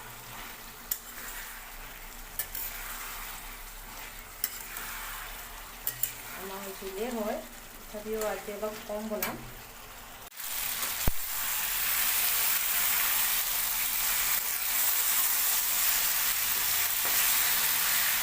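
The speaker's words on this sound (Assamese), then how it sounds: "এতিয়া দিম মাংসখিনি দি আৰু অলপ ভাজিম।" Broiler chicken meat sizzles and fries in a pan while being stirred, a steady close hiss that swells louder in the second half, with a voice talking briefly over the cooking early on.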